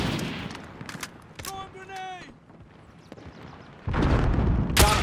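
Bursts of gunfire in Call of Duty: Modern Warfare, scattered shots early and a heavier loud barrage near the end, mixed with game effects and talking voices.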